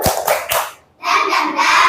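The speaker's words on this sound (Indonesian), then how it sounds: "tepuk tangan semua" A group of students standing in a classroom clap their hands together in bursts, a couple of sharp claps, a brief pause, then a fuller round of clapping close by.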